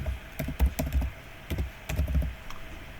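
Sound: typing a password on a computer keyboard

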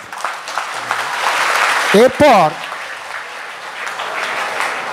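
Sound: audience applause at a school function

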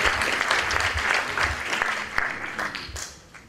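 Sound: audience applause for Teodora

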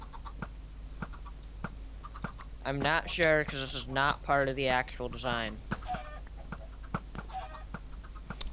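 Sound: chickens clucking in Minecraft video game

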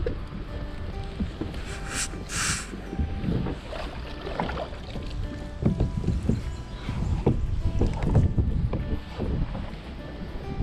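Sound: kayak moving on water

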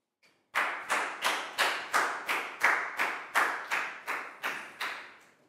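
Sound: classroom pupils clapping

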